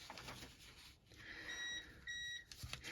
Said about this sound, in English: the beeping sound is going to be heard because it's the battery backup